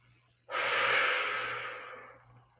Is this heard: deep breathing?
yes